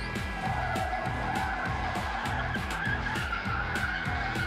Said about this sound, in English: I did a little power stall out on the road.